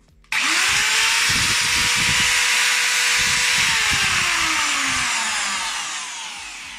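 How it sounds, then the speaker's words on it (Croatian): An angle grinder, just fitted with new carbon brushes, whirs up to a high, loud whine, runs steadily for several seconds, then begins to spin down. "Evo je brusilica."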